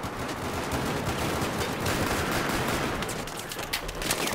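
A dense, continuous rattle of gunfire in a Battlefield 4 match, loud and sustained with sharper shots popping through near the end and no talk over it.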